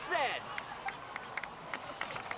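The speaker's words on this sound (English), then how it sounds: "please give another round of applause for them." Scattered claps from a small crowd in the game Genshin Impact, a handful of distinct hand claps spaced irregularly over a soft murmur, fairly quiet, opening with a brief higher tonal flourish.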